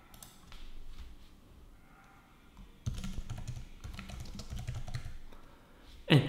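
Computer keyboard typing at a desk, quiet taps at first, then a denser, louder run of keystrokes midway, ending with a sharp click.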